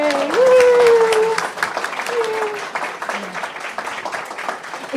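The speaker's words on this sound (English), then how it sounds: "give them a great big giant round of applause" Applause for two named leaders at a church service, with cheering and a loud whoop over the opening second, then steady clapping that thins out a little, voices mixed in.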